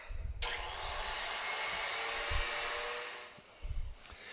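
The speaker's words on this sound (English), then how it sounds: "I put it on the machine. And I'm going to whisk it until I get to the sabayon stage." An electric stand mixer whisks a mixture to the sabayon stage for a chocolate mint bombe glacée, its motor starting abruptly into a loud, steady whirring hum that holds for about three seconds before easing off.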